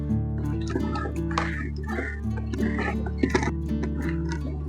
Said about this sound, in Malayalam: ഇത് നമ്മൾ ഒഴിക്കുന്നത് SLES എന്ന് പറഞ്ഞ ലിക്വിഡാണ്.